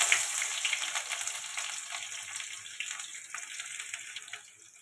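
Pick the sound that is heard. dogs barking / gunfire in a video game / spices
spices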